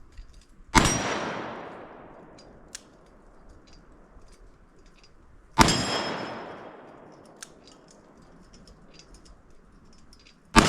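A revolver fires 240 grain Underwood jacketed hollow point rounds: two loud, sharp shots about five seconds apart, each with a long ringing decay, and a third shot just starting at the very end, with faint clicks in between.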